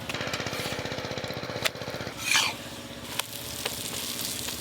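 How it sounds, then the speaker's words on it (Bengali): A chicken roll frying in oil in a pan, giving a steady close sizzle with a rhythmic bubbling pulse and one brief louder crackle partway through, with no talk. "একদম দোকানের মতো করেই ভাজা হচ্ছে"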